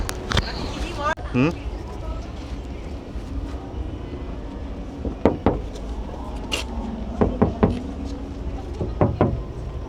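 Knuckles rap on the exterior body panels and glass of a Jaecoo J5 car in a series of sharp, close knocks spaced irregularly, while someone talks throughout.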